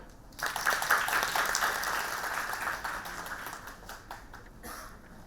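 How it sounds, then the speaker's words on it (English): Conference audience applause swells quickly into sustained, dense clapping, then gradually thins and tapers off near the end. "Give a big round of applause"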